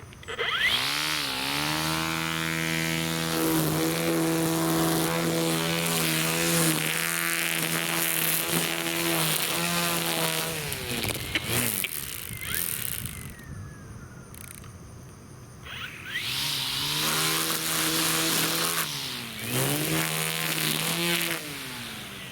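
A battery-powered Toro 16-inch string trimmer cuts weeds around a house, its steady high electric whine rising and dipping as it bites into growth, close and loud throughout with a brief lull midway.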